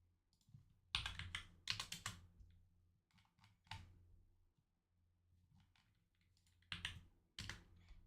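Rapid bursts of clicking keystrokes on a computer keyboard, close and fairly quiet, coming in uneven clusters with short pauses between runs of typing.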